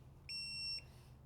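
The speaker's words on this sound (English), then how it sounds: "I don't know how loud this beep is in your ears, but if you're sensitive to high-pitched noises, it might be kind of loud." A single high-pitched electronic beep, about half a second long, clean and steady, sounding once in a quiet garage during work on a 1996 Toyota 4Runner engine head, with a faint low hum underneath.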